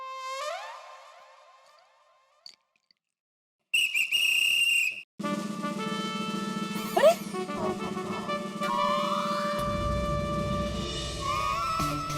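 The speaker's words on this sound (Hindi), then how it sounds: "चाचा जी की सीटी बजाते ही" A whistle is blown in a loud, shrill burst in a comedy sitcom scene, followed by a sustained whistle-like tone over a bright musical sting and background noise.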